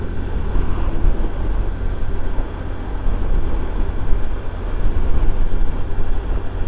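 A 2023 Honda Trail 125 motorcycle labours uphill, its engine a steady, loud low rumble mixed with rushing wind noise, with no voices over it.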